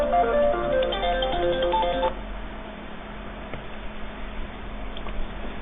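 A phone rings briefly during a recorded math lesson, a bright melodic ringtone of quick tonal notes in the first two seconds, then cut off, leaving only quiet room noise.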